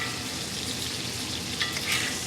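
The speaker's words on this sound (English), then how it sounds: "Now I'm going to just start basting my steak with this garlic butter." Ribeye steak sizzling in a cast iron pan as garlic butter is spooned over it, a loud dense continuous crackle with a few louder spatters.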